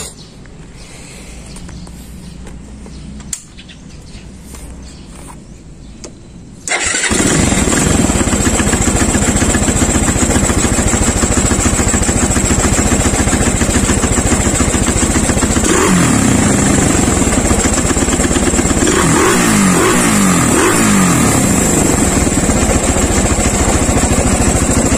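A Raider 217cc motorcycle running a stock exhaust with catalytic converter starts up after a few quiet seconds and then idles loudly and close, with several throttle blips raising the engine note partway through.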